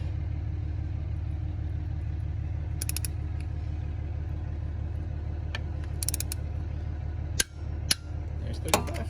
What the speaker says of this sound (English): next is gonna be to torque the bolts to 35 foot-pounds